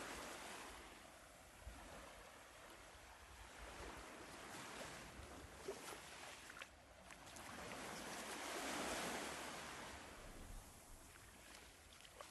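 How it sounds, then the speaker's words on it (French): Sea waves washing back and forth on the shore of the bay at Mont-Saint-Michel, a steady broadband rush that swells near the end, with wind noise over the microphone. "De la mer, des vagues qui vont et viennent sur le rivage."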